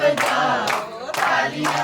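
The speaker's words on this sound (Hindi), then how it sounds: "तालियां बजाओ सारे तालियां" A group claps at a wedding welcome, with steady rhythmic bursts of hand claps about twice a second beneath a tuneful sung chant.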